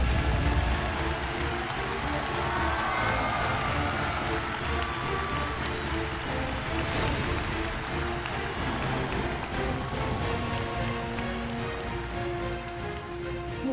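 A studio audience at a televised singing competition applauds as a challenger is welcomed on stage. The clapping is dense and steady, heard from a distance, and sounds like rain, with faint music underneath.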